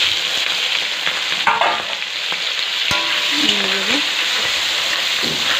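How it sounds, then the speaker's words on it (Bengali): Onions and capsicum fry steadily in a pan of oil for chili chicken, a constant sizzling hiss with occasional stirring scrapes and a brief clink of utensils. "পেঁয়াজগুলো ভাজতে ভাজতে সব ফুলে যাবে"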